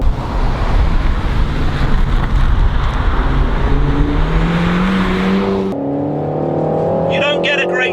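A car engine accelerates loudly around a track corner, its rising roar steady for several seconds before easing off with crackling exhaust pops, while someone talks over it.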